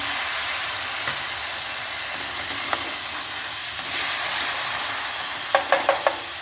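Water poured into tomato paste frying in a pan sets off a steady hiss and sizzle, with a few soft taps and a quick run of four sharp clicks of a utensil against the pan near the end; no talk.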